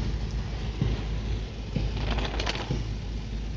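Rain pours steadily in a broad constant hiss, with a few soft thuds and scattered taps breaking through, fairly close and unbroken.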